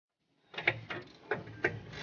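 A ratchet undoing the bottom control arm bolt on a 2004 Saab 93 during a wheel hub replacement: silence, then several close, clicking ratchet strokes in an uneven rhythm.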